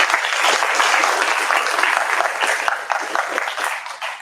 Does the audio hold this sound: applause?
yes